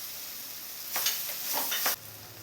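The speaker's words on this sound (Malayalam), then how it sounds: "ഇപ്പോൾ പഴം നെയ്യിലിട്ട് 2 മിനിറ്റ്സ് ഒന്ന് വഴറ്റിയെടുത്തിട്ടുണ്ട്" Ripe plantain (nendran banana) pieces sauté in ghee with chopped green chillies, a soft steady sizzle under a few brief stirring scrapes of a spoon through the pan, no voices.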